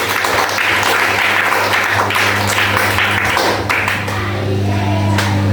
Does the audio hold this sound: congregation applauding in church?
yes